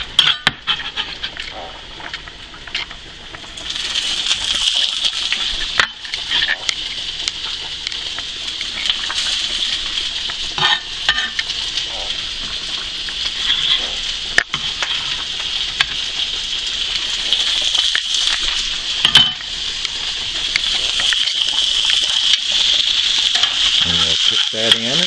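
Shrimp hit a hot pan of browning onions over high heat, producing a loud, steady hissing sizzle that runs throughout, with a voice talking over it at times.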